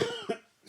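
A man with a lingering chest infection gives one short, close cough. A second smaller hack follows, then a brief breath.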